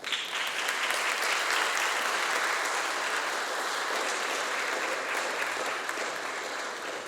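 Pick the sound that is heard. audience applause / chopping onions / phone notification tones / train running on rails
audience applause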